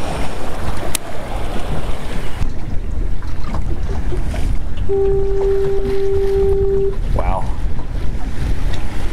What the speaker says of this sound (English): You saw those big waves just come right up over the top of that rock structure.